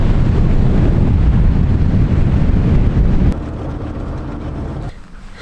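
Strong coastal wind at the southernmost point of Ireland roars across the microphone in a loud, steady rush and then drops off sharply partway through, leaving a quieter blustery background.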